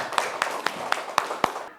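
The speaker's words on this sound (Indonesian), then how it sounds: "Kita beri tepuk tangan untuk kita semua." Schoolchildren in a classroom clap their hands in a rhythmic unison pattern, six or seven sharp even claps close by, with faint voices underneath.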